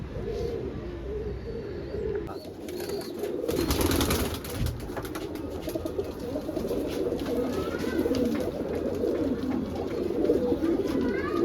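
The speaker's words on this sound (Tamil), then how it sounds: "பாருங்க இந்த புறாங்கெல்லாம் பார்த்தீங்களா." Loft pigeons coo in a low, continuous murmur, with several overlapping birds nearby and a brief burst of rustling partway through. There is no talk over the cooing.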